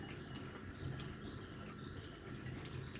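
Water from a kitchen tap streams in a soft, continuous rush, fairly quiet and without any voices, while breadfruit dumplings and callaloo are prepared.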